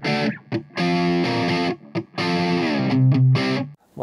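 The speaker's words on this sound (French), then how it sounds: "on a cette guitare maintenant qui est un petit peu plus adoucie, qui est un peu moins extrême" Softened distorted electric guitar playing short phrases, with the tone shifting as a frequency is swept and adjusted; sustained harmonic notes broken by brief gaps.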